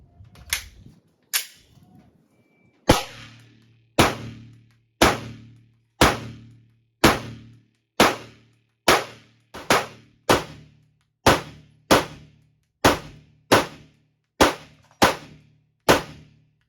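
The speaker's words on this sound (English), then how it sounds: "I'll fire a few rounds with only one hand" A Turkish-made Canik TP9 SF Elite 9mm pistol fires one-handed at a range: a couple of early sharp reports, then a steady string of loud, crisp shots about one per second, each with a brief ringing decay.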